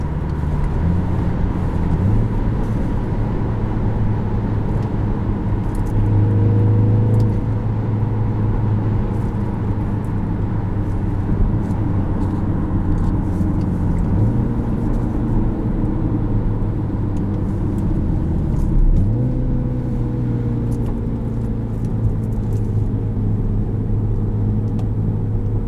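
Engine of a 2017 Mini Countryman S with a manual gearbox, steady in-cabin drone with rising and falling revs as it shifts through gears, several clear upshifts and rev changes, loud and continuous with no talk.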